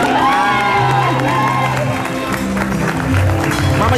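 A television studio audience claps and cheers loudly and continuously, with whoops and shouting voices mixed into the applause.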